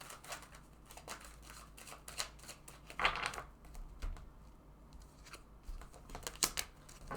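Tarot cards shuffled and drawn from a deck, soft close shuffling, light taps and card flicks in irregular bursts, with a sharper snap near the middle and no talking.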